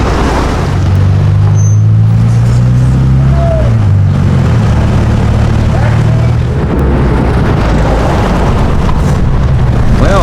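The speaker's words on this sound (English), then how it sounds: "long-distance bus travel in Mexico goes through these windy, curvy, sometimes dangerous roads" Long-distance bus grinding along winding mountain roads in the Sierra Madre of Mexico, a loud, constant low engine drone and road rumble heard from inside, with shifting engine tones and a voice talking over it.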